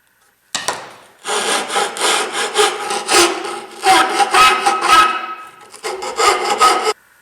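Rough, rhythmic rasping of a file worked back and forth across wood while shaping a utensil box, close and loud in repeated strokes with a brief pause partway.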